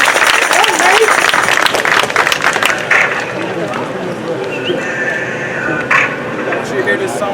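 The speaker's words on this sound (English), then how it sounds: "So we can give a round of applause real quick." Crowd applause and cheering at a march rally against ICE in Morgan Hill, California, a steady wash of clapping that gradually eases, with voices mixed in throughout.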